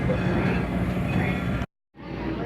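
Steady rumble and rolling noise inside a Strasburg Railroad passenger car, continuous and fairly loud, cutting out briefly to silence before resuming more softly, with faint voices.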